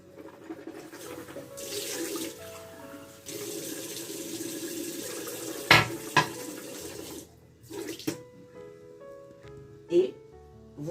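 Tap water runs into a bathroom sink while rinsing after teeth whitening, a steady splashing flow with brief pauses and a few clinks, while a person speaks French over it.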